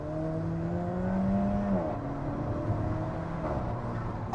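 Alfa Romeo 4C mid-engine sports car under hard acceleration, its engine note climbing steadily in pitch, dropping briefly at a gear change, then pulling again, heard loud and close from inside the cabin.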